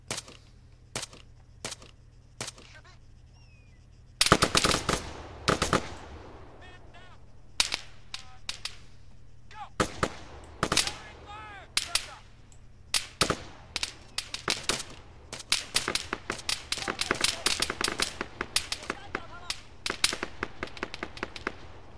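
A recon team trades gunfire in Arma 3, the sharp gunshots cracking out singly and in quick bursts, some close and loud and others fainter, spread irregularly across a quiet background.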